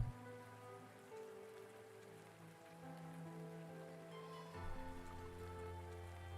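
Rain falling as ambience in the video game Arknights, a steady faint wash of raindrops under a sustained layered musical drone that swells slightly partway through, with no voices.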